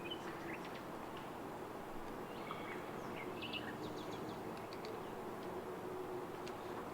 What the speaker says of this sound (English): And now we start hearing my birds coming in.